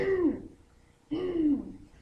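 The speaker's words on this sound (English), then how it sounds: "Like clear your throat." A person clears their throat twice, two short voiced rasps about a second apart, close and fairly quiet, with no other sound around them.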